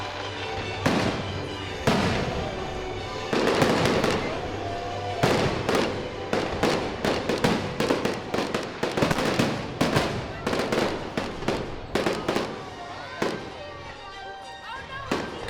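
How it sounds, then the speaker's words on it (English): A holiday fireworks show at Busch Gardens Tampa's Christmas Town, with a long run of loud booming bursts and crackling explosions, some spaced and some rapid-fire, over a crowd's background murmur. "the last thing that we're going to do here at Busch Gardens Christmas celebration is a fireworks show"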